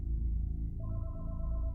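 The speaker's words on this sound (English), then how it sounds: "Then, the phone in the house began to ring" A house phone begins to ring in a dramatised story scene, a soft electronic tone pattern entering partway through over a loud low rumbling music bed.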